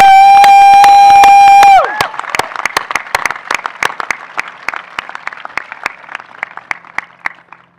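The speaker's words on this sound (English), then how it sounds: "Please join me in once again applauding and thanking our enlisting graduates and our servicemen and women" An audience at a graduation ceremony honoring enlisting graduates and service members bursts into loud applause after a sustained tone, the clapping staying dense and then gradually thinning.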